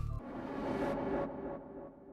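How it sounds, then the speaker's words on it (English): A reversed riser effect swells up as a dense, noisy wash, peaks midway, then cuts off and thins out into a darker lingering tail, alone with no voices. "you can use any riser that you find from any drum kit or sound kit and just reverse it"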